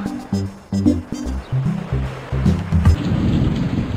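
Thunderstorm in the Nintendo DS game Hello Pocoyo!, with low rumbling thunder and rain-like wash, layered with short tonal game sounds in the first half and a steady noisy roar building toward the end.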